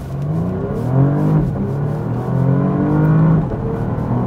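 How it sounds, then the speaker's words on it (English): Porsche Panamera Platinum Edition engine in sport mode pulling hard from a standstill, a steady loud rising drone with smooth upshifts as revs climb and drop, heard from inside the cabin without talk. "you can hear the engine. It changed sounds a little bit."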